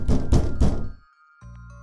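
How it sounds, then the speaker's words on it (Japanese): Three firm, heavy knocks land on a front entrance door at night in quick succession, loud and close, followed by a quiet pause and a faint electronic hum. "玄関の扉を叩く音だ。"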